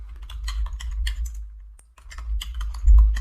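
Someone types the ping command on a computer keyboard, a close run of crisp key clicks in two quick bursts separated by a brief pause.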